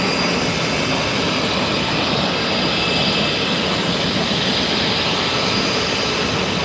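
Jet aircraft at the Reno Air Races pylon school give off a continuous, loud, broadband roar that holds steady throughout with no voices.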